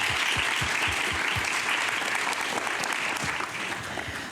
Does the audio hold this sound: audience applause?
yes